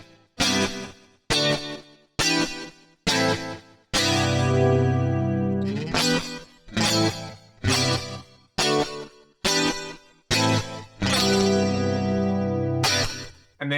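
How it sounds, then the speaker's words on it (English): Electric guitar run through an HX Stomp echo delay in an 80s-inspired preset: short chopped strums alternate with sustained ringing chords, each trailing off into repeating delay tails, played alone with no voices. "Let's just hear this with the echo."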